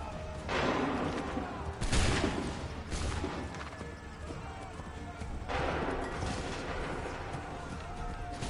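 Musket volleys ring out in the Assassin's Creed 3 Remastered video game, several loud, booming bursts of massed gunfire spaced a few seconds apart, with shouting and battle noise between them.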